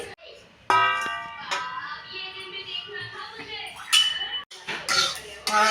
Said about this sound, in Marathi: तीळ टाकून घेते कढईत आणि छान असा तीळ भाजून घेते मंद आचेवर